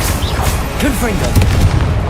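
Confringo explosive spell blasts in Hogwarts Legacy, a dense run of booming impacts and bursts layered over a talking voice throughout.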